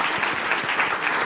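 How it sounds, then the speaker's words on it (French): Dense, loud applause from a live talk-show audience welcoming a guest onto the stage, a continuous roar of many hands clapping without a break. "Bah, on peut applaudir Tac."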